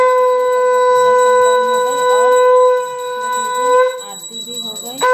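Conch shells blown after aarti at a home puja following a Char Dham pilgrimage give a loud, sustained, steady tone that keeps sounding for several seconds, with bells and voices mixed underneath.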